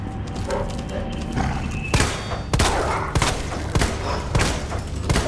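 Rapid gunfire rings out in the Resident Evil 2 video game, several sharp, loud shots spaced about a second apart over a tense background hum, with no talking.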